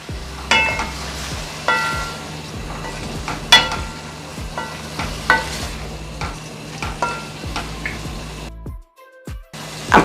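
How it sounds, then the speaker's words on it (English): Saltfish (codfish) going into a pot for Jamaican callaloo, with sizzling and frying crackle under repeated stirring scrapes, fairly close and loud, ending in a short quieter stretch. "Now I'm gonna add the saltfish or the codfish"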